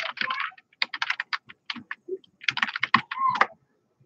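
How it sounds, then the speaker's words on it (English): Quick bursts of keystrokes on a computer keyboard, close and clear, arriving in short irregular runs separated by brief pauses. "I'll just type it in the comments right here."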